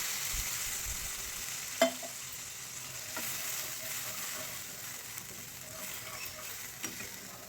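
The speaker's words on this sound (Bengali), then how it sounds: "কষানো হয়ে গেলে পরিমাণ মতো জল দিয়ে দিলাম" Fish curry masala for a thin katla fish curry with thankuni leaves simmers in a wok after water is added, giving a soft, low sizzle with occasional spoon clinks and stirring taps.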